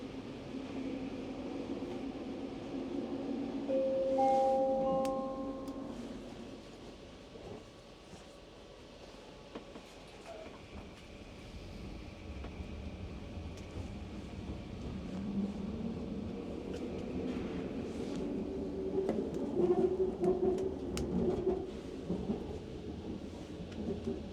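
A Vancouver Expo Line rapid transit train rumbles past at a distance, a low steady roar that swells and fades over several seconds, with faint tonal squeals from the rails.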